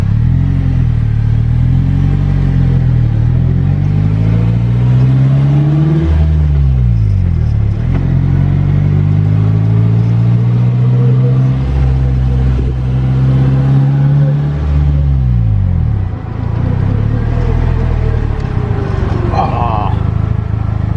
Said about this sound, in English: Here I go, man. First time in a Polaris